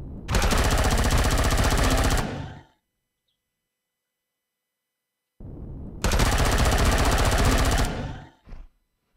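Video game gunfire from Empyrion Galactic Survival: two loud, dense bursts of rapid automatic shots, each about two to three seconds long and separated by a silent gap, closing with a couple of short trailing shots.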